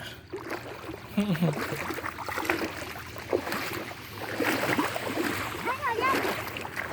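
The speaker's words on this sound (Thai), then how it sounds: "น้ำไหลครับ" Flowing water rushes and splashes steadily while children play in it, with excited voices speaking and shouting over the watery wash throughout.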